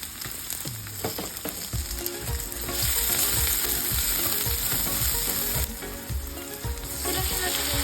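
Pork cubes fry in a pan with a close, loud sizzle that builds and holds steady, broken by frequent clicks and scrapes of stirring.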